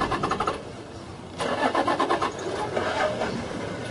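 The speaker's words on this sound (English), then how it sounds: "Why are they moving the truck with the lions right next to?" A truck engine cranks and catches, then idles and revs as the vehicle begins to move on a safari drive near lions, a close, rough mid-pitched rumble with pulsing revs and no talking.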